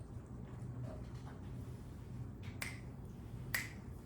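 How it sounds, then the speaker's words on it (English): Two sharp finger snaps ring out close and crisp, spaced about a second apart in the latter half, over a quiet background hiss. "I'll snap my fingers, you tap as many as you can."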